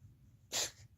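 One short, sharp sneeze from a pet bursts out close by over quiet room background.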